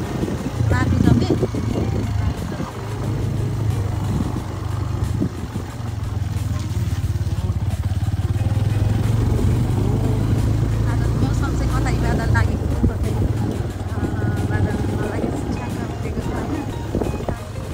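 A motorbike labors up a rough, steep mountain road toward Shailung, its engine droning steadily under gusting wind noise while people talk throughout.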